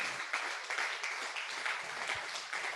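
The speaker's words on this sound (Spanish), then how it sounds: "Dale un aplauso muy fuerte al Señor." Group applause at a church men's meeting, fairly faint clapping from a modest crowd with uneven bursts and swells.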